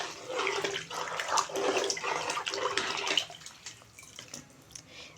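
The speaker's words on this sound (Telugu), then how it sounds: "టూ గ్లాస్కి ఫైవ్ గ్లాస్ అయితే వాటర్ పోస్తా" Water poured from a glass into a pot for cooking rice, a continuous close splashing and gurgling for about three seconds that then fades to quieter trickles.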